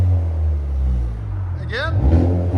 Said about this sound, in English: Giving gas with the valve open.